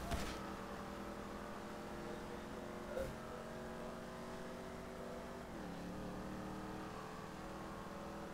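A car engine in a racing video game holds a sustained whining drone, its pitch climbing gradually before dipping and rising again as it accelerates, at a moderate, even level with no voices.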